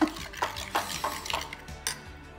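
A spoon mixes sour cream sauce with sugar in a bowl, giving rhythmic wet scraping and soft clinks against the bowl, close by and moderately quiet, with no talking.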